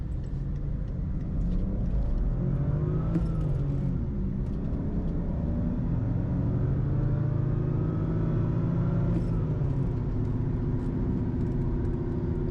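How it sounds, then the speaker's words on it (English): A 2010 BMW 535i cruises with loud tire roar, a steady broadband rumble heard continuously from inside the cabin with a faint engine note and no talking. "As you can hear, the tires get pretty loud."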